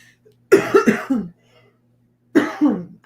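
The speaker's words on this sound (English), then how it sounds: "I've got this productive cough." A person gives a productive, wet cough: a burst of three or four rapid hacks, a pause, then two more close coughs, loud and near in a quiet room.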